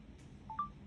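A short electronic shutter chirp from a Japanese phone camera, two quick bright tones in succession, close and clear over a quiet hum.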